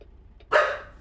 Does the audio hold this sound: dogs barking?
yes